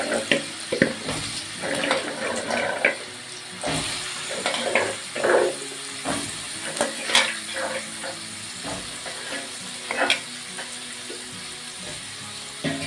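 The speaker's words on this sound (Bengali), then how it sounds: "ভাজা হয়ে গেছে এবারে এর মধ্যে আলু আমি ছেড়ে দেবো" Potatoes are dropped into hot oil for a Bengali cauliflower and potato curry and sizzle loudly up close, with scraping and stirring clatter running through the whole stretch.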